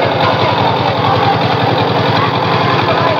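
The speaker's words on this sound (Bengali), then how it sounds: "পদ্মা এক্সপ্রেস নৌকাটা কিন্তু ঝড়ের গতিতে এগিয়ে যাচ্ছে" Engine of the Padma Express racing boat in a boat race runs loud and steady, a continuous throbbing drone with a fast regular pulse and no voices over it.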